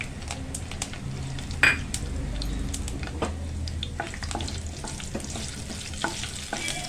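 Whole spices such as cinnamon, star anise and bay leaf frying lightly in oil in a pan for a masala potato curry, a soft continuous crackling sizzle with occasional sharp utensil taps and stirring scrapes.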